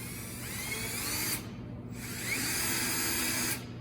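An electric drill set to drill mode, running forward, whirs steadily up close, its motor tone dipping briefly partway through before spinning back up.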